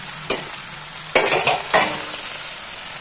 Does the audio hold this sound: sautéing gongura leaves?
yes